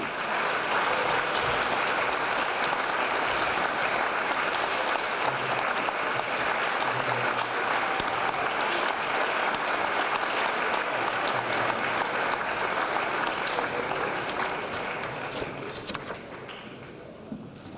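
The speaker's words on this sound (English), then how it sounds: "please provide a round of applause" Sustained applause from an audience at a school dedication ceremony, steady and full for many seconds before gradually thinning and fading near the end.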